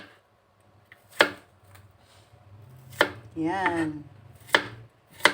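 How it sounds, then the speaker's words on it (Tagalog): A knife slicing chayote lengthwise on a cutting board, with several distinct sharp chops spaced about a second apart, close and clear, and a voice speaks briefly between cuts. "Tapos, hiwain ko na siya ng pahaba."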